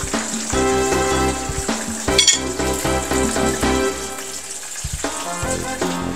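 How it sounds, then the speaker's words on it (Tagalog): Horse mackerel double frying in hot oil, a steady close sizzle with occasional clinks of pans and utensils throughout, no talk. "I-double fry po natin itong ating isda para mas crispy po siya."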